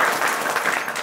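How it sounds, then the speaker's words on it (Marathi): Close, loud clapping from a gathered audience at a devotional saptah gathering in a village near Khed, Pune, a dense brief burst of many hands clapping together. "टाळ्या वाजवा"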